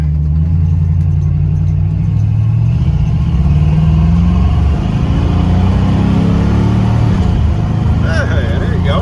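A 1979 Chevrolet Camaro Z28 recovered from hurricane flooding pulls away with a loud low engine drone that rises and wavers unevenly, heard from inside the car while a person talks over it.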